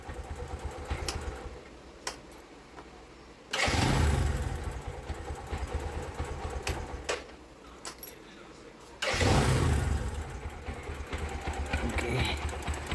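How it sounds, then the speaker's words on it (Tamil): A motorcycle fires up on its self-starter powered by a 12V LFP lithium battery pack, starting twice with sudden loud bursts that settle into a rumbling idle, close by. "டக்குன்னு ஒரே செல்ஃபில் ஸ்டார்ட் ஆகுது"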